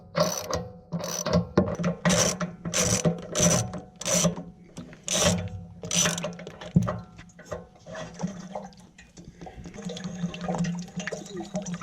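A ratchet loosens the drain bolt on the hot water tank of a Momentum 376THS RV, giving several quick, close clicking bursts, then the clicking gives way to the sound of water trickling and splashing.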